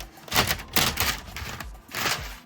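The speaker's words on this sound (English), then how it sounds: "but it's kinda hard to shuffle LEGO plates." LEGO plates being shuffled by hand, producing bursts of rapid plastic clattering and clicking in uneven clusters, close and moderately loud.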